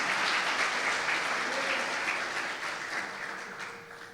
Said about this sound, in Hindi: जोरदार तालियां खुदावंद यीशु मसीह को दी।